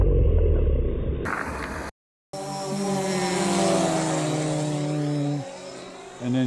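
A DJI Phantom 4 Pro drone flies overhead, its motors giving a steady, fairly loud buzzing whine that briefly cuts out before resuming and then shifting pitch near the end.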